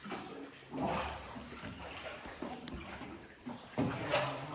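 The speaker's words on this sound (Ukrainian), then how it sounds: "Якщо знімати не можу, пішла гребти веслом." An oar paddles a boat through water inside a cave, producing soft splashes and trickling strokes at an irregular pace, fairly quiet with faint echoey background.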